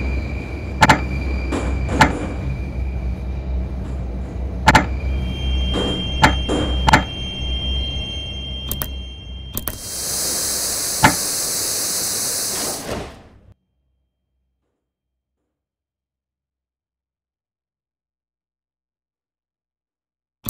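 Sliding doors on a Moscow metro train at VDNKh station close: scattered clicks and knocks, then a loud pneumatic hiss lasting about three seconds that cuts off into silence.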